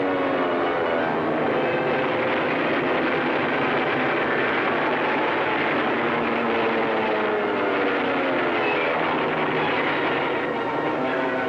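Piston engines of a B-29 bomber droning steadily in flight over Japan near Tokyo, a dense, continuous roar that fills the whole clip with no talk.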